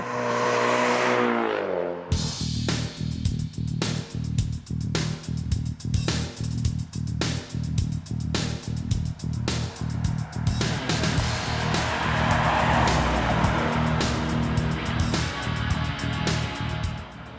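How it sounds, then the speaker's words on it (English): A Ford Mustang EcoBoost 2.3-litre turbocharged four-cylinder engine rumbles close by with a raspy exhaust note, rising and falling as it revs and accelerates through gears, with rhythmic pulsing throughout. "there's still a distinct tone that this turbocharged 4 puts out"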